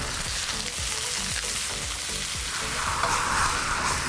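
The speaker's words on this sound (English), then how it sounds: "We want to sear the beef." Steady, loud sizzling of beef searing in a hot pan before stir-frying for Mongolian beef, a continuous crackle with occasional soft knocks and no talking.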